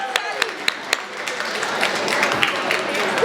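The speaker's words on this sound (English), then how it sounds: "a big round of applause for Sally" Audience clapping at a student union election hustings, a few distinct claps at first that build into steady, moderately loud applause from a room of people.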